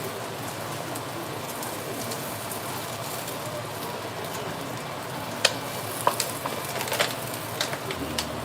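A chapati frying in a hot pan gives a steady, close crackling sizzle throughout, with a few sharper pops and spits toward the end.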